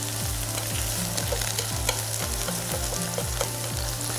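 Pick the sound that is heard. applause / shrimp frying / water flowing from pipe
shrimp frying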